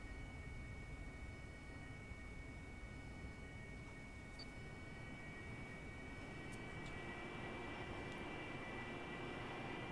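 An aircraft in the DCS 2.5 flight simulator game: a steady, faint engine drone with a faint high whine, running continuously without change and without speech.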